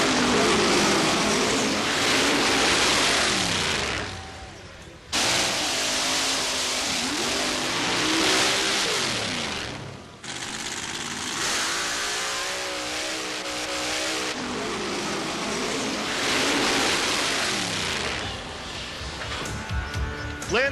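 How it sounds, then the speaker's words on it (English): A 1927 Peyton Roadster mud racer with a 550 cubic inch Chevy engine, Pontiac heads and a two-speed Lenco transmission roars loudly and continuously, its revs climbing and falling in several long pulls with brief dips between runs. "This 1927 Peyton Roadster sports a 550 cubic inch Chevy engine with Pontiac heads and a 2-speed Lenco transmission"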